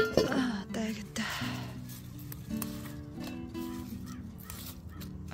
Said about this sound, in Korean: 아이고, 까마귀야 까까까 하네